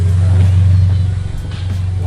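A Subaru BRZ fitted with an unequal-length header idling with a deep, loud rumbling burble and slight revving, close by, with people talking over it.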